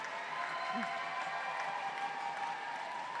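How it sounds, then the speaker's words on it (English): A roller derby crowd at a championship game cheers and applauds in a continuous, fairly distant wash of noise, steady without clear peaks, with a faint voice briefly heard over it. "The crowd are going absolutely wild here"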